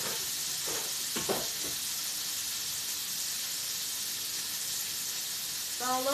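A tofu steak sears in a skillet over low heat, giving a soft, steady sizzle and hiss that runs throughout, with a few brief clinks and a short voice near the end.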